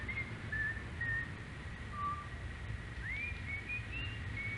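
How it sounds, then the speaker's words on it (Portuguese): Faint background whistling in a horror film set in a cabin, a few thin sliding tones drifting over a steady low rumble and hiss, distant and sparse. "enquanto isso ouvimos um assobio de fundo"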